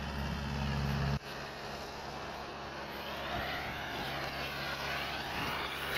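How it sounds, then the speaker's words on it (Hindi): A loaded Mahindra 575 tractor hauling harvested wheat pulls out with a steady, close engine drone that shifts tone slightly after the first second and holds continuously. "लो भरे कढ़न लगे ट्रैक्टर"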